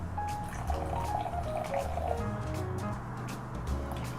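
Mexican Coke poured into pancake batter: a steady, fizzy stream of liquid runs continuously with faint dripping and bubbling throughout, close by and fairly quiet.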